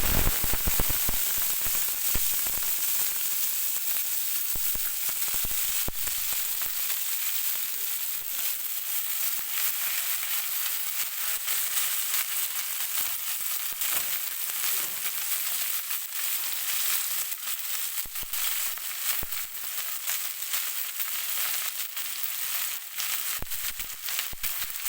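Fenugreek leaves sautéing in hot oil with browned garlic, a steady bright sizzle with crackling pops that runs continuously and close for the whole stretch, with no talk.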